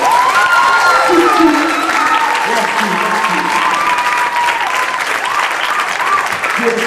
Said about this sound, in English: Make some noise for Emile.